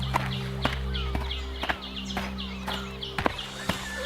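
A horse's hooves clip-clop in an animated story scene as a merchant rides off, light irregular hoofbeats with faint birdsong in the background.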